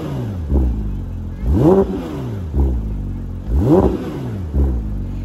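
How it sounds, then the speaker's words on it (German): Porsche 992 GT3 heard from outside, started and then blipped repeatedly: five sharp throttle revs rising and falling in pitch about a second apart, loud and close over a steady idle rumble, with no talking. "Dafür starten wir den Wagen mal."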